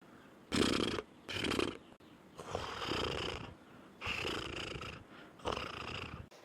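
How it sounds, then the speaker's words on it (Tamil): A person snores in repeated rough breaths, about five bursts in quick succession, each a rasping rattle with short quiet gaps between, close and fairly quiet. "யாரோ கொரட்டை ஊடுற சவுண்டு கேட்குது"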